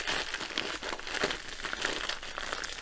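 A plastic bag holding a potted-flowers diamond painting kit is peeled back and pulled open, giving steady close crinkling and rustling of the plastic for the whole stretch.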